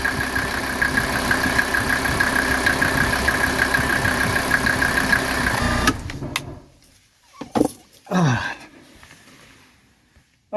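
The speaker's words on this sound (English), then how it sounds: "Look how smooth that engine is" A 1981 Mercedes 300SD engine idles with a steady, smooth hum for about six seconds, then cuts off, leaving quiet broken by a few brief knocks and rustles.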